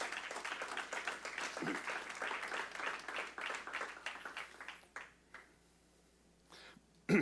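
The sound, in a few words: congregation applauding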